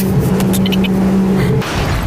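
An expensive car roars loudly on a private racetrack, its engine a steady sustained drone before a sudden shift near the end, with crash-like clatter in a racing game.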